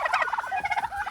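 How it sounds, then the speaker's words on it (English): Turkeys on a farm gobble in a quick, close burst of rapid warbling calls. "They're pretty interesting creatures, these turkeys."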